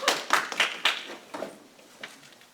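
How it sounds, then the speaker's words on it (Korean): A small lay-ministry training class at a church breaks into a brief round of hand claps, a few distinct bursts that quickly trail off into light, scattered patting. "박수 한번 쳐드리십시다."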